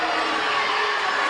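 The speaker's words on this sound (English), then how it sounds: "you heard the crowd" A basketball crowd at a varsity boys game in Winnebago roars in reaction to a defensive foul call, a dense and loud wash of voices that holds steady throughout.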